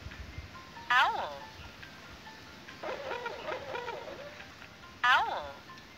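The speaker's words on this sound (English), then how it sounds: "Owl." Owl hoots play in a children's bird-learning game on Android: two distinct sweeping calls several seconds apart, with a softer burst of sound between them, close and clear with no talk.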